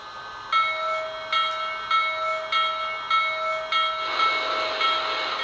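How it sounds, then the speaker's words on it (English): A Lionel Legacy Blue Comet model train's bell rings in a steady rhythm of about seven clear strikes, close and alone, with a rising hiss of steam joining near the end. "So, you press up on the bell and you hold it for a few seconds."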